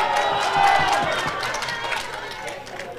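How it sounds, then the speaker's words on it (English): A crowd at a Scottish super-bantamweight championship boxing fight roars and cheers steadily in the arena, a broad continuous wash of noise beneath a commentator's voice. "And the crowd is loving this, I can just tell you that."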